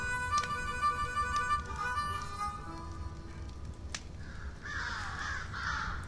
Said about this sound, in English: Crows in westerns are never a good sign